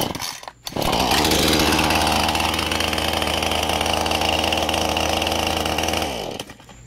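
A Husqvarna 435 chainsaw fires up cold with the choke used and settles into a loud, steady running roar for several seconds before it cuts off, with no other sound around it.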